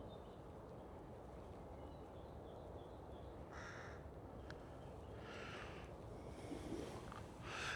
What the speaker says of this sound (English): we've definitely got crows in the tree because we can hear them shouting